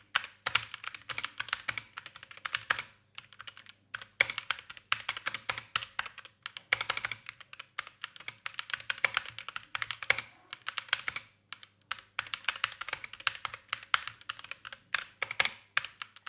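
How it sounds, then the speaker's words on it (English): Steady typing on a GK-61 mechanical keyboard with Gateron yellow linear switches, quick clacking keystrokes in bursts with short pauses, close and fairly loud, no voices. "Now let's have a quick typing sound test"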